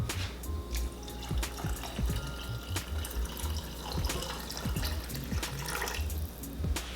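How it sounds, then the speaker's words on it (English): Tap water runs steadily into a pot of beans being topped up for cooking, a soft continuous splashing with small drips and clinks, close and fairly quiet. "I'm just going to fill the top up with water."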